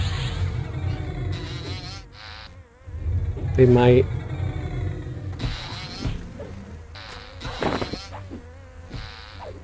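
Wasps buzz continuously in EverQuest, a droning insect hum under game effects and chimes, with a brief spoken remark partway through.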